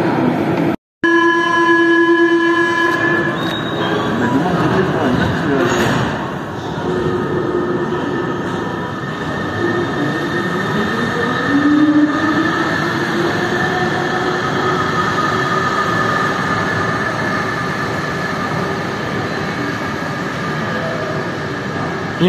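A Siemens VAL 208 driverless metro on Line A pulls away, its motors rising through a climbing electric whine over continuous wheel and carriage rumble, heard from inside the car and steady throughout.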